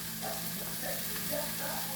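Salmon searing in a frying pan on a home stove, giving a steady, low sizzling hiss under a faint background hum.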